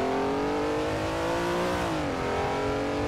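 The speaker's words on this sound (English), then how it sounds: "there's a car coming behind me" Engine roar of a 1967 Daytona race car closing in from behind in a racing video game, a steady loud multi-harmonic drone with the pitch dipping briefly near the end.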